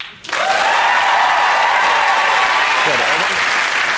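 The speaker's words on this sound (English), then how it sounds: "Those are the teams. Let's now applaud them." A television panel-show studio audience bursts into loud applause for the teams after a brief quiet start, a dense, sustained clapping wash with a faint voice or tone running underneath.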